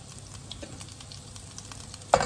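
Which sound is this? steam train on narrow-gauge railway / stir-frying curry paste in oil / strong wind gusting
stir-frying curry paste in oil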